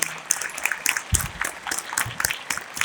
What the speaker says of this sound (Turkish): Evet, kocaman bir alkış alabilir miyiz?